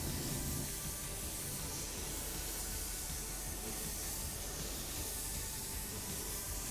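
Spray gun laying down clear coat over gray metallic automotive paint, a steady, continuous close hiss of atomized spray running unbroken throughout with no talking.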